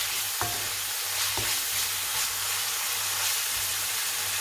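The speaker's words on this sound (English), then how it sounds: "I'm going to put the bacon in now. Bacon's in. Just gonna fry it a little." Bacon strips frying in a pan give off a steady broadband sizzle and crackle, with a few sharp clicks of utensil contact against the pan near the start, and no voices.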